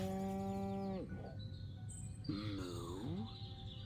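A long harmonic moo from a cow in a video game, then a second wavering bovine call, set over a steady low hum with a brief high electronic tone between them and no speech.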